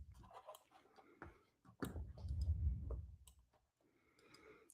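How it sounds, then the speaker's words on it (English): Scattered sharp clicks, likely from a computer mouse, come in irregular bursts, some close and crisp, with a low rumbling thump in the middle and quiet gaps between. "Your clicking is getting to me."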